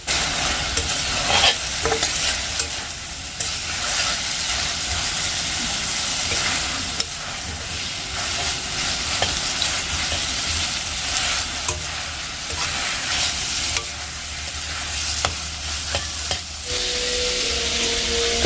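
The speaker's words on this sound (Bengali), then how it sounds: "সেদ্ধ করে এখন ভালো করে ভেজে নিচ্ছি" Boiled amaranth stems fry and sizzle steadily in a pan while being stirred, a loud continuous crackling hiss with frequent scraping stir strokes throughout.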